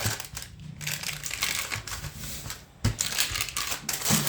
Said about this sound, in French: avec le rouleau à pâtisserie, on va venir aplatir le beurre